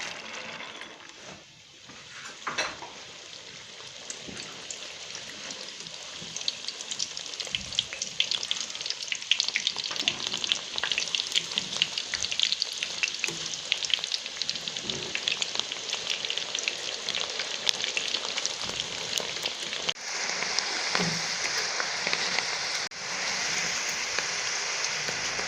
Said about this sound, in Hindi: अब हम चने की दाल भी फ्राई कर लेते हैं सेम प्रोसीजर से।